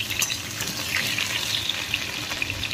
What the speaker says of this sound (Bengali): এবার আমি সবজিগুলো দিয়ে দিলাম। সবজিগুলো প্রথমে কষিয়ে নেব।